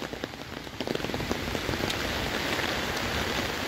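Steady rain patters across a surface in a dense, even hiss with scattered louder drops, close and continuous throughout.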